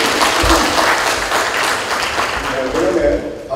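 A crowd claps steadily and densely throughout, with a voice faintly audible under the applause.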